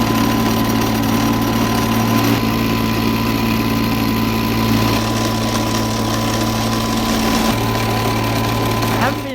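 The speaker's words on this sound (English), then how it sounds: "I reckon we're running the engine probably a little bit too hard." A gold recovery plant's engine runs steadily and loudly, a constant droning hum with a harsh mechanical rattle, working hard at high load with no letup.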